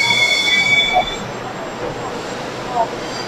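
A Baku metro train pulls into the station and runs along the platform, a steady mechanical rumble with faint wheel squeals, while someone talks over it.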